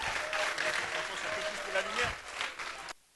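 An audience applauds steadily at a festival stage event as a high school headmaster is welcomed onstage; the clapping is dense and fairly loud for about three seconds, then cuts off abruptly.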